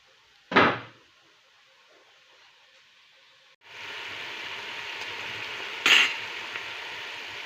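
Carrots and other vegetables sizzle steadily in a frying pan for eggplant caviar. Two brief scraping stirs cut through, one early and one later, over a constant close hiss.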